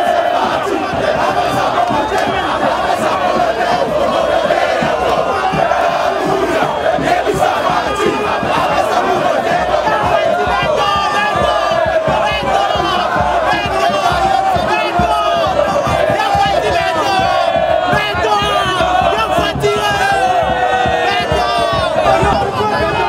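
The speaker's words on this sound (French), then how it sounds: "sous une salve d'applaudissements, des chansons et des cris de joie" A large, loud crowd welcoming President Félix Tshisekedi and his wife at a rally in the Grand Équateur region, with chanting and singing voices, shouts and cheers blending into a continuous roar.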